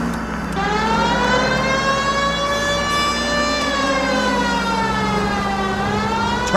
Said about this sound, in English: Have you got something against the siren?